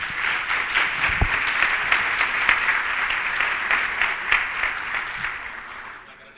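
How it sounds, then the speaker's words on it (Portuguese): A seated conference audience applauds the panelists at a forum session, a dense steady wash of clapping that holds for several seconds and then tapers off at the end. "Uma salva de palmas, por favor,"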